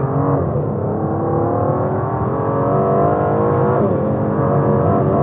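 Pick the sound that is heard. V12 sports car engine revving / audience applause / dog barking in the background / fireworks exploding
V12 sports car engine revving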